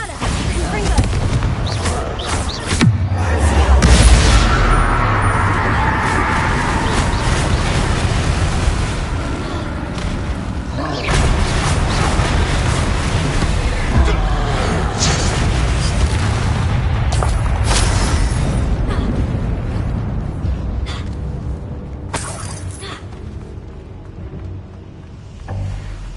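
Bombarda and Confringo spell explosions during a wizard duel, heavy booming blasts and rumbling impacts that run almost continuously with a dense, loud texture before fading near the end.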